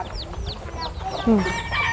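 Chickens cluck and chirp near the microphone in quick repeated calls, with a rooster-like cry rising briefly in the middle, set against faint background murmur.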